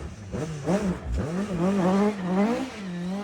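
A Ford Anglia rally car overshoots a hairpin, its engine revving hard in rising and falling bursts with a brief dip mid-way, loud and close, no voices.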